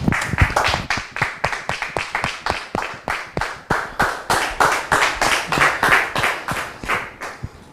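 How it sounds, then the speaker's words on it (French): Studio audience clapping loudly in rhythmic unison to welcome a guest onto a TV set, a fast, even beat of sharp claps that keeps going for several seconds. "Je voudrais donc demander à notre public de bien vouloir la recevoir sous vos applaudissements"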